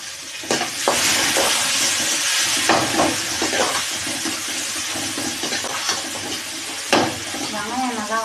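Onions and tomatoes sautéing in a pan for a poori potato masala, a continuous close sizzle broken by sharp clatters of a spoon against the pan, with a voice talking over it.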